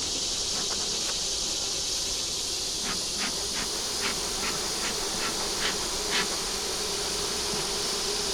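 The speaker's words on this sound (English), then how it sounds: "Get the bees off the top so we don't squish them." Honey bees buzz steadily around an open deep hive frame during a hive check, a dense continuous hum close by with brief louder passes of individual bees.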